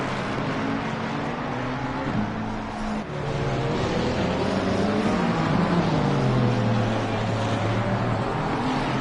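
Race cars, including GT machines like an Aston Martin, Ferrari and Lamborghini, run in the Assetto Corsa Competizione video game, producing steady loud engine drone with rising and falling revs as they brake and accelerate through a tight hairpin, with no speech.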